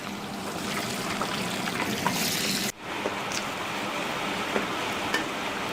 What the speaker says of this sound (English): hear that sizzling sound?